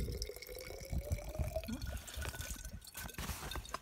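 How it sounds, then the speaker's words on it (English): Fresh spring water flows and trickles outdoors on a hilltop in Poland, a close, steady babbling with small drips and gurgles throughout, heard alone without talk. "A fresh spring we have up on the top of our hill."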